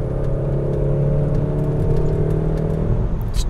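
A 1997 Volvo V70R AWD with a 5-cylinder engine and a modified exhaust back box pulls under acceleration, giving a steady, loud, close engine drone that holds for the whole stretch with no voices.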